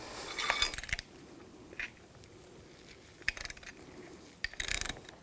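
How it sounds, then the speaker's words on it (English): A ratchet working on the front shock nut of a 2004-2009 Audi A4 Quattro, giving faint clicking and metallic clinks in short scattered bursts against a quiet background, with no talking. "And once it's loose, take the nut off."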